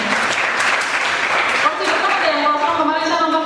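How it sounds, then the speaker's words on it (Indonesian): Audience applause at a young-entrepreneur seminar at UNS, a steady broadband wash of clapping that fills the room, with a tonal voice-like sound rising over it toward the end. "tepuk tangan untuk teman-teman supaya di sini"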